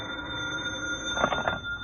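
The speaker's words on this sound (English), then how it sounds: "Lieutenant Clark had been on the phone for half the afternoon, and I was in his office at 5 when it rang again." An office telephone rings in a radio drama, a steady electric bell tone with a brief burst of stronger ringing partway through, clear and close with no talk over it.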